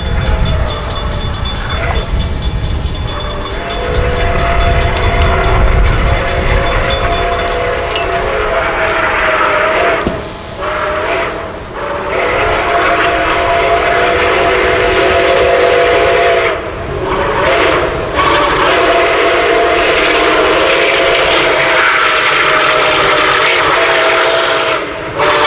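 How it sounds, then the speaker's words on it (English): Nickel Plate Road 765, a 1944-built steam locomotive, rolls past westbound at Payne with loud, sustained rumbling and clanking of cars, its steam whistle sounding early on over the continuous roar. "We again caught the train at Payne as it continued to move west."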